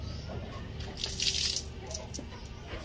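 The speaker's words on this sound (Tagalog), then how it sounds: "Yan, buhusan natin yung tubig." Water pours and splashes over rusty metal during rust removal with a degreaser, a brief rushing burst, louder in the middle, with faint background noise around it.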